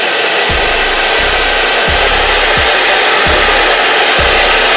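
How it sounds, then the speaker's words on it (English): A hair dryer blows hair dry with a loud, continuous close-up whoosh, joined by regular low thumps roughly every half-second or so. "I don't want to stop blow drying until I don't feel nothing sticky"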